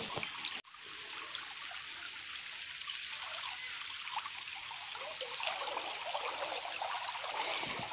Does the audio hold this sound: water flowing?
yes